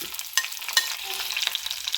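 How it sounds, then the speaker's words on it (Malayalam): Garlic sizzles and crackles in hot oil where mustard seeds and fenugreek have just popped, for a curry with kilimeen fish. It is a steady close hiss with sharp spatters and a couple of stirring clanks, and no voices. "നമുക്ക് അതിനകത്തോട്ട് വെളുത്തുള്ളി ഇടാം."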